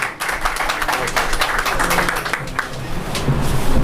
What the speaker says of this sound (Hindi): जोरदार तालियों से स्वागत करें भाई का।